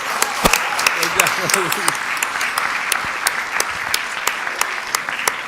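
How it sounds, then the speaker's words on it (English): A school board meeting audience applauds students, with steady, fairly close clapping and sharp individual claps standing out throughout, and voices talking underneath. "Let's give them one more round of applause, please."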